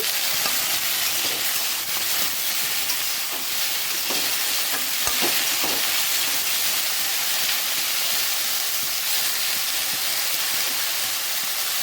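Okra with finely chopped onion and a little salt fries in a pan, giving a dense continuous sizzle broken by occasional scraping stirs, with no talking.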